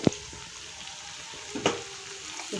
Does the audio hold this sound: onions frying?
yes